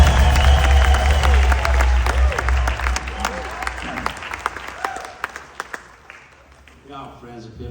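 A theater audience at a concert in Albuquerque breaks into loud, sustained applause that fills the room, then gradually thins into scattered claps and fades out.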